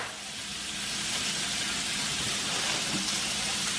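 Potatoes fry in a pan for a Spanish breakfast, giving a steady, even sizzle and hiss close by with no talking.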